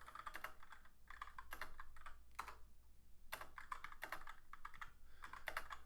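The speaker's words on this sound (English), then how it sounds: "so I'm only typing with one hand." Keys clattering on a computer keyboard, typed one-handed in uneven bursts with short pauses, fairly quiet and close with no voices.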